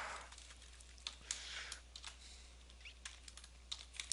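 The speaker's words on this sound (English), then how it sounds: "And I can't type today at all." Typing on a computer keyboard, a steady run of quiet, irregular key clicks at close range over a low background hum, with no talk.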